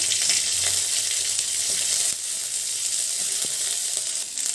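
Green chillies, cut in half, fry in hot oil in a pan, giving off a loud, dense, continuous sizzle and spatter throughout.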